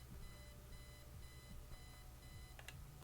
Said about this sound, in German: Wecker ausschalten.